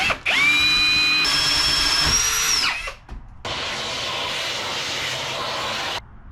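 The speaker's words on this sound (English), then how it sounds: "Now I'm just gonna put a pilot hole in here." A power drill fitted with a 2 1/8 inch bit bores a pilot hole in the helm of a C-Dory TomCat boat, whining loudly and rising in pitch, then pausing briefly before a second long, steady stretch of grinding.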